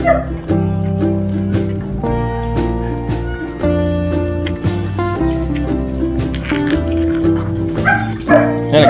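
Belgian Malinois dogs, one an import-line male at a stud session, bark and yip in loud, close, repeated bursts mixed with whimpers and tonal whining.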